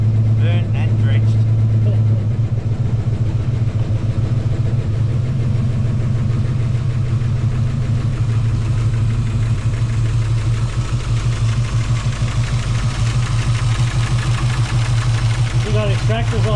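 A V8 Ford Mustang fitted with Genie tri-wire extractors idles after a cold start, giving a loud, steady low rumble with an uneven lope, while people talk nearby.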